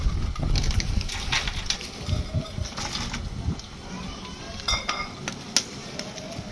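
Whole cinnamon, cloves, cardamom and black pepper dropped into a cooking pot, giving scattered light rattling and clinking against the metal under a faint low kitchen rumble, with a voice talking nearby.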